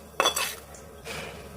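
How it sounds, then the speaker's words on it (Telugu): Curry being added into a bowl for chapati dough: a sharp metal clink of utensil against bowl, a couple of quick scraping knocks, then a soft rustling scrape. "చపాతీ పిండిలోకి కర్రీని ఒక గిన్నెలో యాడ్ చేసుకొని"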